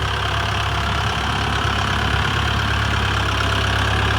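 A Kubota L5228 tractor engine idles steadily and loudly nearby, a constant low rumble with a faint knocking texture and no voices.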